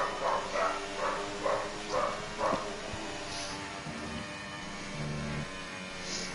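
Dogs bark outside, a rhythmic string of faint, distant barks early on that fades into a low hum with a few soft thumps.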